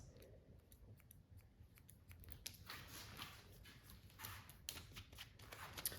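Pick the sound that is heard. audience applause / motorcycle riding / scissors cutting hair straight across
scissors cutting hair straight across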